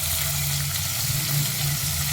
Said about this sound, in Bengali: ক্যাপসিকামগুলো হালকা করে ভাজা ভাজা করে নিচ্ছি।